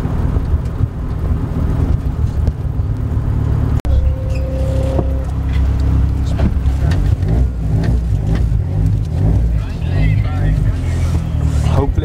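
MK2 Golf GTI 16v with individual throttle bodies at a drag race, the engine droning and revving in rough pulses with a gear change partway, loud and close, with someone talking over it.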